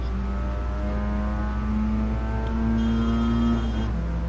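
A car engine in the GT Sport racing game, driven on a wet, rainy track, drones and revs steadily, its pitch climbing and falling through gear changes, loud and alone without talk.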